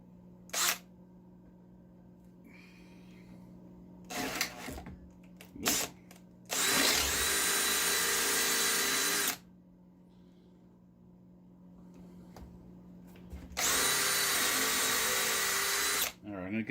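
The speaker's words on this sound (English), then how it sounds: "so I'm going to drill it." A power drill bores into a wooden stool under repair in two long, loud bursts of whining and grinding, separated by quiet stretches with a low steady hum, a few short clicks and knocks, and some speech.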